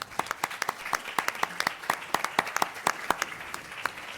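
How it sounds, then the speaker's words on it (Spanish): Applause from a law-conference audience at a judiciary congress in Mexico, the claps fairly sparse and distinct, a modest crowd clapping steadily at moderate distance with no talking. "para quien también pido un caluroso aplauso"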